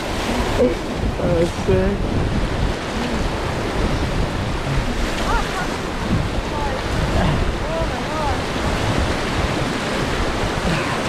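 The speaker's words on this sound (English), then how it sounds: "It's just a big wave." White water rafting on a river in the Amazon, with rushing, churning water and heavy wind buffeting a nearby microphone in a continuous loud roar as people shout and talk excitedly over it.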